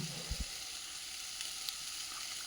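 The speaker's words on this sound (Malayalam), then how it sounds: "ഇനി നമുക്ക് ഈ കൽച്ചട്ടിയിൽ തന്നെ വെള്ളരിക്ക ഇട്ട്," Cucumber sizzling in a stone pot, a steady bright hiss of frying with a couple of soft knocks near the start, close and continuous with no talk.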